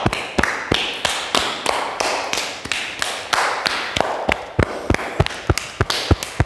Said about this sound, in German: Und dann auch mal über die Brust vorne ein bisschen trommeln, lockerer zur anderen Seite, innen runter,